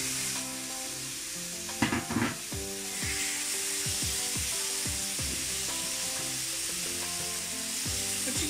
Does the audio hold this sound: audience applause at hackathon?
no